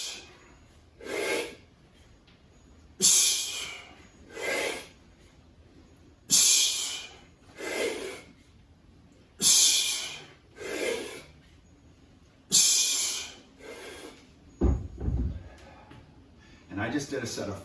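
Heavy, forceful breaths during a double kettlebell clean and press come in sharp, hissing bursts roughly every one to two seconds, loud and close, with quieter gaps between them.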